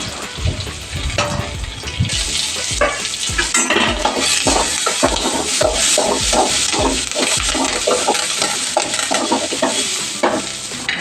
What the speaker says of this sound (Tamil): தேங்காய் கொஞ்சம் போட்டு நல்லா வதக்குறோம்.